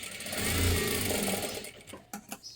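A sewing machine runs steadily while double-stitching a blouse seam, giving a continuous close mechanical whir that slows and stutters into a few separate stitches near the end.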